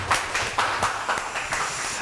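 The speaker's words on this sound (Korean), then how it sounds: "박수로 맞이해 주세요" An indoor audience at an exam-preparation information session claps to welcome a lecturer, a moderately loud burst of scattered hand claps with slightly uneven rhythm, heard alone without voices.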